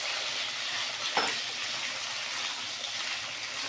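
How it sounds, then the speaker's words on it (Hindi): Potatoes frying in oil in a pan, a steady hissing sizzle throughout with one brief clink partway through, no voices. "आलू को हम सबसे पहले इसमें फ्राई करेंगे 1 मिनट तक"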